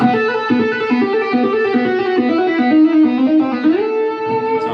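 A smooth, flowing electric guitar lick with soft note attacks, notes gliding into one another in a fast legato run, with a light effects sheen.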